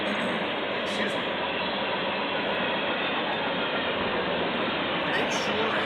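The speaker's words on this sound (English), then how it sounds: "we have a southbound train to Wapaka." A southbound train passes a railfan webcam at Wapakoneta, a steady broadband rolling rumble of wheels and engine that stays loud and constant throughout, with faint voices in the background.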